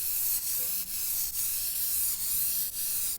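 A spray gun lays a coat of paint on a Subaru WRX quarter panel in a steady, close hiss. Brief dips in the sound mark the gaps between overlapping passes.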